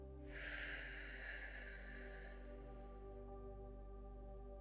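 A long, slow, breathy exhale from a children's guided relaxation exercise, soft and airy, sustained for about two seconds over a quiet droning music bed.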